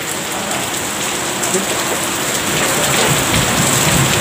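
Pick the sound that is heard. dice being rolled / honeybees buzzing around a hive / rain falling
rain falling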